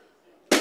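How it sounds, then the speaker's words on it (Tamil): A balloon is burst during a Bible school lesson. After a quiet, faintly murmuring stretch, a single sharp loud pop cracks out and rings briefly in the room. "அவ 2 பலூன் வந்து வெடிச்சிடலாம்"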